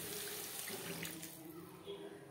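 Water poured into a pan of puti fish curry over cooked onion, tomato and spices, a brief splashing gush that trails into quieter trickling.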